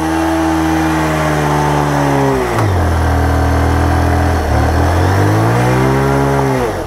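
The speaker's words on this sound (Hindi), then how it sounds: "ये देखो रोल हो रहा है टायर एकदम से" An off-road motorcycle engine revving hard while its tyre slips and spins, a loud continuous drone that swoops up and down in pitch as the throttle rises and falls.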